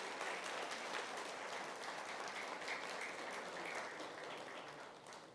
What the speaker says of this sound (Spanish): ¿qué tal si le das un aplauso a ese Señor que es mayor que tu corazón